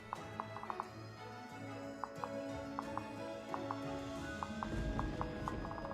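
Rhythmic clip-clop of horse hooves from mounted units in Fire Emblem Fates: Revelation, repeating in quick clusters of taps over a soft game music bed, fairly quiet and steady.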